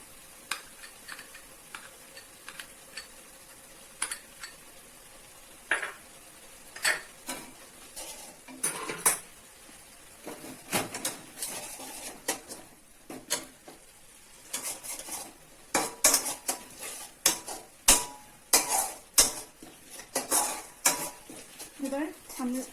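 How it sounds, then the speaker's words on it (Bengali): A spice paste of ground chilli and turmeric is stirred and fried in a pan for chicken kosha, with repeated scraping strokes of a spoon and clinks against metal over a faint sizzle, coming in irregular bursts. "এবার আমরা মশলাটাকে একটু কষিয়ে নিচ্ছি।"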